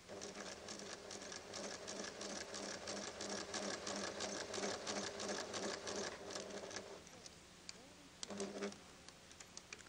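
A PFAFF creative 1475 sewing machine stitches an applique onto base fabric in fast, even rattling bursts, running close and steady for most of the stretch before slowing into short stop-and-start runs.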